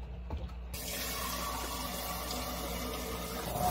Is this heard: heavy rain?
no